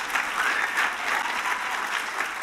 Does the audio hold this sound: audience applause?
yes